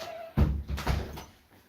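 A home freezer door being pulled open, giving a few dull thunks and a soft seal release close by, with no talking over it.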